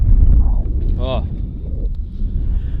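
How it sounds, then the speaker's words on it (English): Wind over a lake during a bass fishing outing, a heavy low rumble buffeting the microphone the whole time, with brief vocal sounds and faint background noises mixed in. "the wind has picked up a little bit"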